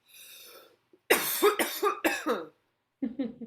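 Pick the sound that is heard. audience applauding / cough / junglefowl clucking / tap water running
cough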